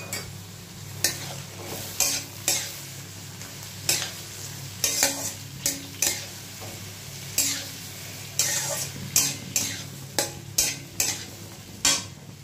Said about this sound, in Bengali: টমেটো দিয়ে সব একটু ভাজা করবো